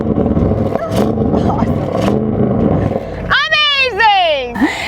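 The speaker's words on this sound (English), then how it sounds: "And with its sport exhaust, how does 591 horsepower sound when in dynamic mode?" A 2021 Audi RS6 Avant's 4.0-liter twin-turbo V8 with 591 horsepower and sport exhaust, in dynamic mode, blasts out sharp, loud revs that rise and fall twice after a stretch of talking, close and dominant.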